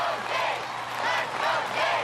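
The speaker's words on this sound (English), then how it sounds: "this crowd starting to get behind the king, chanting" Arena crowd at an American Ninja Warrior finals course in Philadelphia cheering and chanting in support of a competitor, a steady, dense roar of many voices rising and falling in waves over two seconds.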